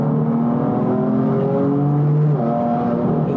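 A BMW M4 GTS engine revs hard with rising tones that climb through quick, seamless gear changes, loud and close with no talking over it.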